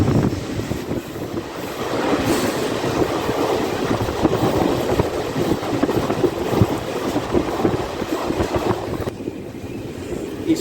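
DEMU passenger train departing Umdanagar station, heard from on board as a steady rolling rumble with faint wheel clatter and wind noise, holding at an even level throughout.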